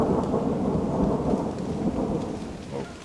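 Thunder rolls with heavy rain arriving outdoors during a palace tour in South Korea, a loud, continuous rumbling wash of downpour that eases slightly toward the end.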